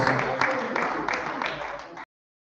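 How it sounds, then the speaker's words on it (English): Audience applause at a political conference, a dense crowd of hands clapping steadily for about two seconds before cutting off abruptly, with faint voices underneath. "Please clap for him."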